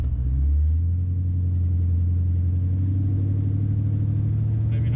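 LS-swapped C4 car launching hard, a deep, loud engine roar that climbs in pitch as it accelerates away, heavy low rumble throughout, heard from close up.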